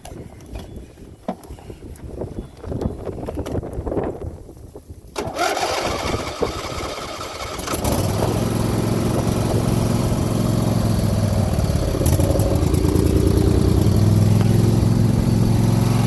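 An engine cranks in rough, uneven bursts for a few seconds, then fires and settles into a loud, steady running drone close by.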